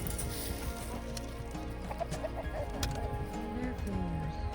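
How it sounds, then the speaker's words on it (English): A farmyard flock of hens with one rooster clucking and murmuring close by, overlapping calls rising over a constant low background hum. "chickens, 1 rooster, 34 hens"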